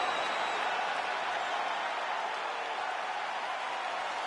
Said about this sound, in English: So the crowd voicing its appreciation after.